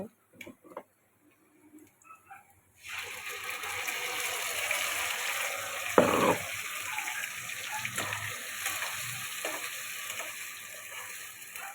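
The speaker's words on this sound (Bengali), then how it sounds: "এরপর আমি এই কড়ার মধ্যে সব মশলাগুলো দিয়ে দেব।" A paste of garlic, onion, green chili and coriander sizzles in a hot kadai for an egg curry, with a fairly quiet, continuous frying hiss and small crackles after a few sparse clicks.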